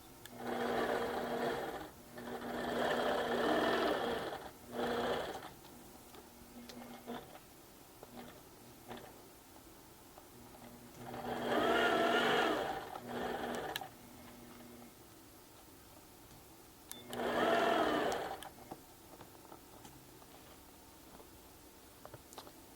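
A sewing machine stitches fabric in three bursts of rapid, even whirring and ticking, several seconds each, with quiet pauses between them, close and clear with no talk.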